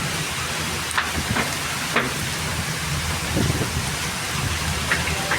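Steady heavy rain splashes onto a home balcony during a thunderstorm, a dense continuous hiss with scattered louder drops and splatters, close and unbroken, with no voices.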